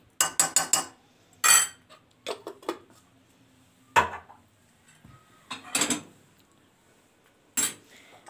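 A spoon clatters and scrapes in a bowl while fish marinade of oil and hot harissa is mixed, quick bursts of metallic clinks separated by short quiet gaps, close and sharp.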